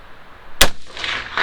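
A single sharp, loud rifle shot from a Bushmaster ACR firing 75-grain Hornady 5.56 ammunition at an outdoor range. It cracks once and then rings out briefly, with nothing else before or after.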